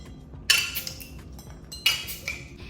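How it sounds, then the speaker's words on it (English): Bottles are opened with a metal bar key, two sharp metallic clinks and snaps followed by softer rattles, close by over a low background rumble, with no talking. "Okay, I have my bar key to open them."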